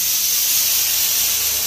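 Pressure cooker cooking rice on the stove, letting out a loud, continuous steamy hiss as its whistle starts to blow, close and uninterrupted with no talk.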